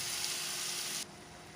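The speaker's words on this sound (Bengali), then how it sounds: "এটা দিয়ে আমি এখন বেশ করে কষিয়ে নেব।" A blended paste of onion, garlic and ginger with cumin and coriander sizzles steadily in a pan for a prawn curry, a continuous close frying hiss that drops abruptly in intensity partway through.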